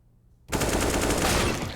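Rapid burst of Desert Eagle pistol fire in a CS:GO Mirage pro match, loud and dense gunfire erupting abruptly after near silence and holding steady to the end.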